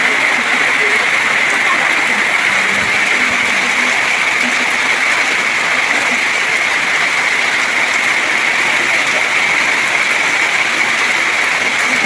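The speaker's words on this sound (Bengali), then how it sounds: "দেখো খুবই বৃষ্টি হচ্ছে" Heavy rain pours steadily and loudly close by at a home, a dense continuous roar with no breaks, and a faint voice briefly shows beneath it.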